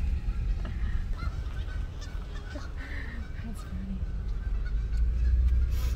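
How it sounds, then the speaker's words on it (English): At a campground in Lanett, Alabama, a flock of geese honks in scattered, overlapping calls at a moderate distance over a low rumble of wind and background noise. "A goose. Whole bunch of them. Whole bunch of geese."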